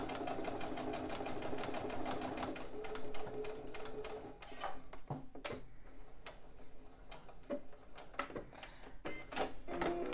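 A sewing machine stitches the seam of a patchwork pouch 1 cm in, with a 2.5 stitch length, through fabric and mesh foam. A close, steady run gives way to short clicks and taps as it stops.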